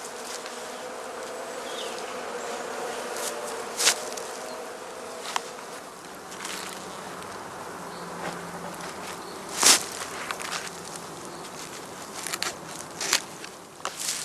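Bees buzz steadily around the entrance of a straw skep hive, with individual insects flying close past in sharp, brief swells over a continuous outdoor hum.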